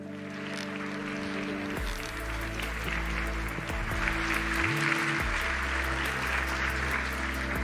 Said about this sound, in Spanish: Ahora sí, ese aplauso para Jorge Olcina.